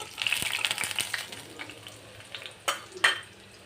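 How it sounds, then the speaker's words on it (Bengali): Chopped garlic and a green chili hit hot oil with a sizzling, crackling fry, busiest at the start, then easing off, with a couple of sharper bursts near the end as the pan is stirred. "তেল গরম হয়ে গেছে, দিয়ে দিলাম রসুন কুচি আর একটা কাঁচামরিচ"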